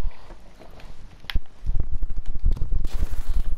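An odd, unusual gun fires in Call of Duty: Advanced Warfare, a string of punchy, rapid shots that get louder and denser partway through, close to the listener.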